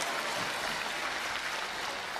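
An audience at a crosstalk comedy show claps in a steady, dense wash of applause that carries on without a break, moderately loud and filling the whole room.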